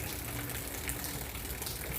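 Sudden rain pours down outdoors near tomato plants, a dense, steady hiss and patter that fills the whole clip at an even loudness with no talking.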